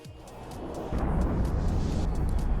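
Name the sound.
explosions in EVE Online video game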